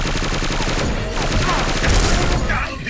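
Rapid automatic gunfire from the Witch gun in the shooter game XSHOT, a dense, loud burst of repeated shots that runs nearly unbroken, with a few heavier impacts near the end.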